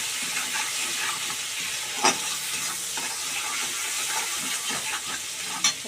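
Hilsa fish frying in mustard oil seasoned with salt, turmeric and chili powder, a constant close sizzle with crackling pops, marked by two sharp utensil clinks.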